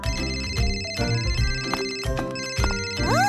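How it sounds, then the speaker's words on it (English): A cartoon telephone rings in an electronic ringtone, loud repeated tonal bursts in an even rhythm, ending with a rising warbling tone. "It's the phone!"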